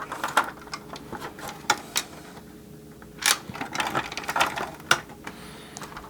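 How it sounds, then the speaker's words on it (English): A small screwdriver ratchets and clicks in quick irregular bursts while screws come out of a 1986 GI Joe Cobra Night Raven toy, close and fairly quiet. "Get all the screws out."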